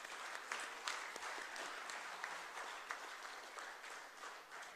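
At a regional CMA convention in Bengaluru, an audience claps in appreciation, producing a steady, even wash of applause with scattered sharper claps, heard distant and fairly faint throughout.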